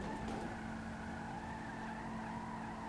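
A car in Grand Theft Auto V skids along on a punctured tyre, a steady grinding screech with a low engine hum underneath, continuous and fairly quiet, no one talking.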